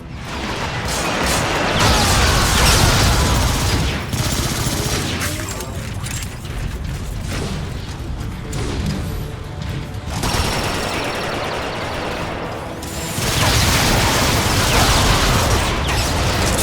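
Gunfire in the video game Transformers: Rise of the Dark Spark: loud, dense rapid-fire bursts and blasts with mechanical clanks, continuous across the scene, easing briefly midway before rising again.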